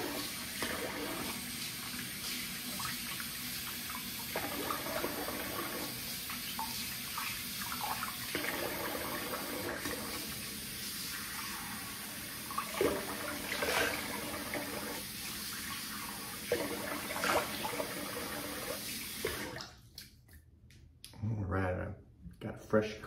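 Tap water running steadily into a sink while a face is rinsed after a shave, with intermittent splashing and soft talk, then the water stops near the end.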